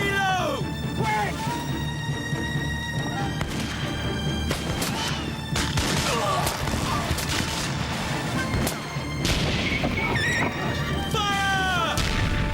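Musket volleys and cannon fire in a naval battle aboard a sailing warship, with repeated loud booms and crashes over constant clamor, shouting voices throughout.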